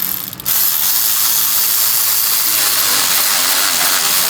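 A ratchet tightens oil cooler bolts on a 2014 VW Tiguan with a continuous rapid clicking, loud and close, running steadily for several seconds.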